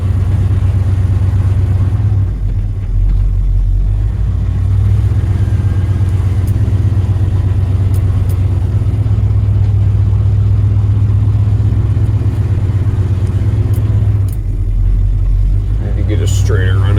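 A Ford car with a straight-pipe exhaust and a flat tire drives along with a loud, steady low engine rumble that swells slightly as it accelerates. People talk over it throughout.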